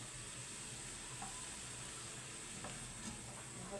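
Onion and grated garlic fry in a pan until soft, giving a faint, steady sizzle with no talking.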